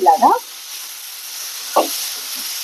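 Onions sizzle in hot oil tempered with mustard, cumin and fenugreek, a steady frying hiss broken by a few short clinks and scrapes of stirring, with no talking.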